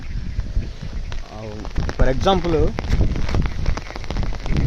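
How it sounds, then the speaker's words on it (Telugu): Heavy rain with strong wind during a two-day downpour in a village: a dense, continuous patter on surfaces, with someone talking over it. "వర్షం అయితే చాలా తీవ్రంగా ఉంది"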